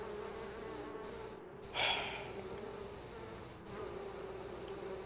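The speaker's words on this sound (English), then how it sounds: "A huge number of bees dance out in a storm." A swarm of bees buzzing around a beehive hanging from a high tree branch in the Sorcery! game, a continuous low droning hum that stays fairly faint and even, with a brief breathy swell partway through.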